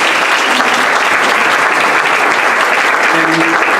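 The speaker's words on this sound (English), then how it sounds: "If we can give them a round of applause," A round of applause from the audience at a board of education meeting, a loud, dense, continuous patter of many hands clapping, close and unbroken.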